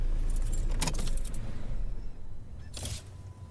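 Keys jangle in a car's ignition as the key is turned, giving a close, bright metallic rattle in two bursts over a faint, low engine hum.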